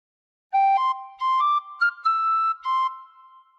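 A tin whistle plays a short phrase of Pop Goes the Weasel, a handful of clear, bright notes rising step by step with small gaps between them, alone and close.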